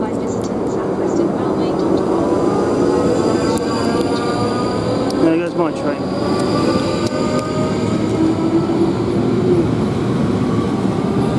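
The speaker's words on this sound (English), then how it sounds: "There goes my train." A South Western Railway train departs Wokingham station for London Waterloo with a loud continuous rumble and rising electric motor whine throughout, close by, with a voice briefly audible.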